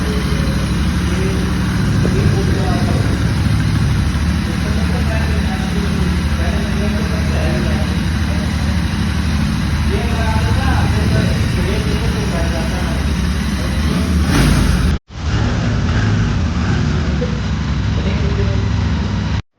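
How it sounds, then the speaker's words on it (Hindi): A 2024 Royal Enfield Continental GT 650 motorcycle runs close and loud with a steady, throbbing exhaust note for about twenty seconds. It cuts out briefly near the end, then picks up again. "तो भाइयों ये थी आपकी कॉन्टिनेंटल GT 650 की आवाज़, एग्जॉस्ट नोट।"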